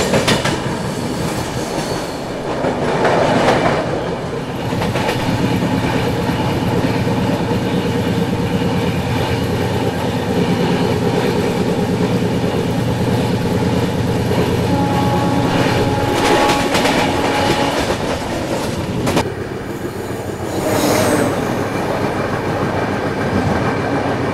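A Tirupati Jammu Humsafar Express rumbles along the rails in a loud, continuous roar, wheels clattering over joints while the train slows from high speed.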